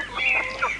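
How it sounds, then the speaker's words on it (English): A hen in the video game Oscar the Balloonist gives a short, bright clucking call, a quick burst of a few squawky notes, fairly faint and alone. "Here you'll get to know Petra Peck-Peck the hen."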